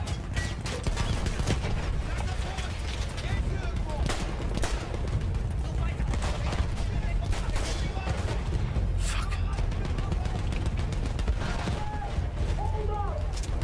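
Battlefield 1 campaign gunfire, dense rapid shots and bursts crackling continuously over loud battle noise while someone talks over it throughout.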